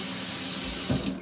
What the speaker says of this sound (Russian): Ручкой смесителя регулируем воду.